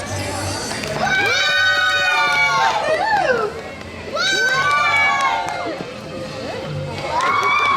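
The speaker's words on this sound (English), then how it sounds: "So when I hold it up, you applaud." An audience at a WinterFest holiday show at Canada's Wonderland cheers on cue, bursts of loud whoops, shouts and applause rising and falling in two or three waves, with excited children's voices prominent.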